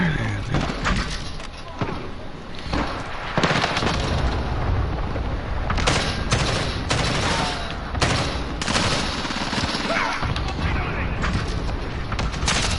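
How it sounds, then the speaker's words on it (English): Explosions from an enemy cluster strike mixed with gunfire in Call of Duty, loud and dense throughout, with blasts and shots under game voice callouts. "Enemy cluster strike. Take cover."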